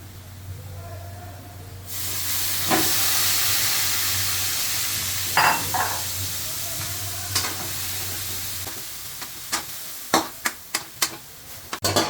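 Ground pork and garlic sizzle loudly in a hot pan, a broad steady hiss close up, with stirring scrapes and clacks of a utensil against the pan toward the end.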